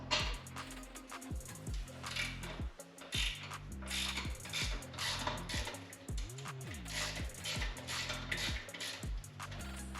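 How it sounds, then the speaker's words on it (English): Axle sliders coming off a Yamaha XSR700 motorcycle, heard as rapid close ratcheting clicks in quick bursts with metallic clinks and brief tool scrapes. "First, take off your axle sliders if you have them."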